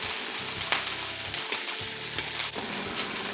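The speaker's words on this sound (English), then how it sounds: "let's start to fry the ingredients that really give us the most flavor, which is this and onion" Bacon and onion fry in a pan for a Korean potato and vegetable stir-fry, a continuous close sizzle punctuated by stirring scrapes, with no talking.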